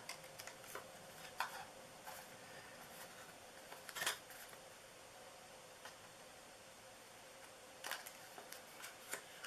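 Scissors trimming paper for a handmade purse-shaped gift box, faint quiet snips scattered across a hushed room, with a few sharper cuts standing out.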